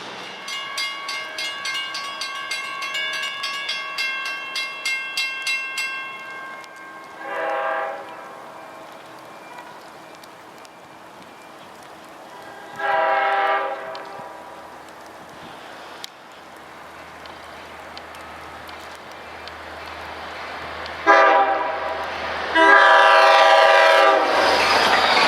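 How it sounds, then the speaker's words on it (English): A Long Island Rail Road train, number 2770 on the Babylon–Patchogue run, approaches with its horn sounding in several long chord blasts, first a sustained call then separate shorter blasts, over a low rumble of the train drawing near. "Approaching in a few seconds is train 2770, runs between Babylon and Patchogue."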